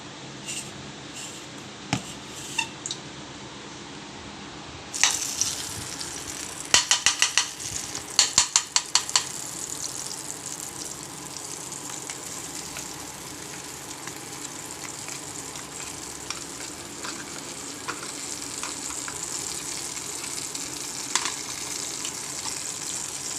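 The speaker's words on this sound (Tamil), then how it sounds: "அரைச்ச பாசி பருப்பை நெய்யில் போட போகிறோம்." Ground moong dal dropped into hot ghee and stirred with a spoon, sizzling steadily close by, with a burst of quick scraping clatter early on and occasional utensil taps over the continuous fry.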